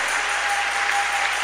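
Church congregation applauding together, a steady dense wash of clapping filling the whole stretch at close range, no voices on top.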